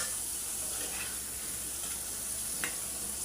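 Potato strips deep-frying into crisp French fries in hot oil, giving a steady, fairly quiet sizzle with faint bubbling and a few soft pops.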